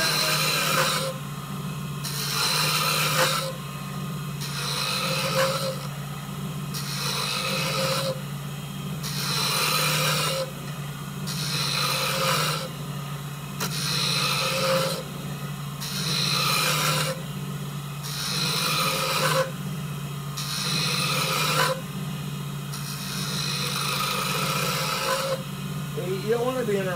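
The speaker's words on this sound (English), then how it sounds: "Making wands on a lathe, not exactly easy" Wooden wand being shaped on a lathe, a rhythmic rasping scrape repeating roughly every two seconds over a steady motor hum, with someone talking intermittently.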